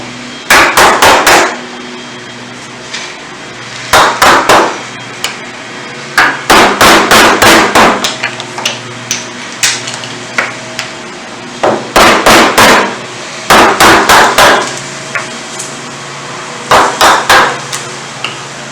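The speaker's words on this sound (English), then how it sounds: "I'm going to take a chisel. That's my disposable mallet." A mallet strikes a chisel during work on a mailbox post extension. Sharp, loud knocks come in quick clusters of several blows, with short pauses between the groups.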